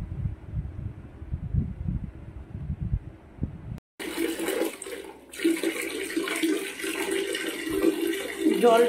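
Water runs from a tap into a container at home, a steady soft gush after a brief low rumbling stretch, moderately close and alone without talk.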